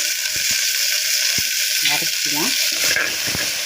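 Onions and green chillies frying in a pot for biryani give a loud, steady, close sizzle. A few stirring knocks sound, and a voice talks briefly underneath.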